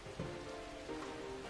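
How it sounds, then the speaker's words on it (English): Rain falls in a Persona 4 game scene, a steady soft hiss of drops with a faint low tone running beneath and no talk over it. "Good thing it looks like the rain will keep up all night."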